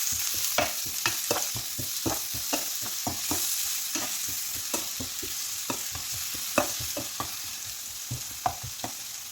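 Finely chopped large onion stirred as it fries in a pan: a constant bright sizzle with a steady, rapid series of spoon scrapes and taps throughout, close and unaccompanied by any talk.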